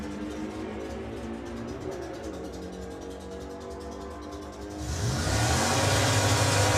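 A VW Beetle and an Audi A3 launch side by side in a drag race at a sportsman nationals event, engines revving and then surging into a loud, broad roar near the end as they pull off the line.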